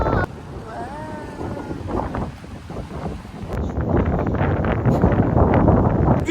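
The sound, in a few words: strong wind at the beach, Réunion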